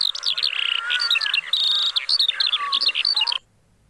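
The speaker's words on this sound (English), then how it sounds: "The skylark, a bird, a type of a bird it is. That sings with me." A skylark sings a bright, loud, close run of chirps, trills and whistled notes for several seconds, then cuts off into near silence.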